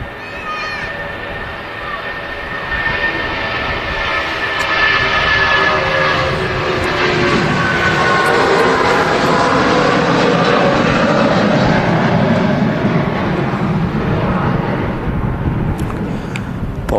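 A Boeing 757 in holiday livery without winglets rolls down the runway, its loud jet roar building and holding steady, then easing slightly at the close.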